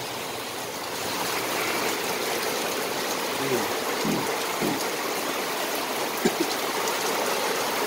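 Heavy typhoon Kristine rain pours in a steady, dense roar close by, wind driving it into a small store in Mabuhay Golden City as the streets flood, with faint voices now and then beneath it.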